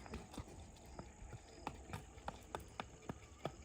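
A horse's hooves clip-clop in an even trotting rhythm on a rural track at dusk, a dozen or so sharp knocks heard faint and at some distance over a low background hiss.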